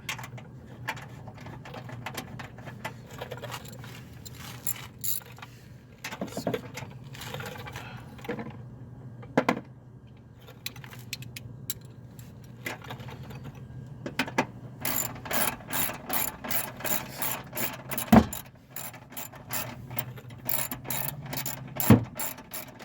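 A ratchet wrench clicks as it tightens a 13mm battery bolt on a 2007-2014 Dodge Avenger, with bursts of rapid ratcheting that turn into a dense, regular run of clicks toward the end.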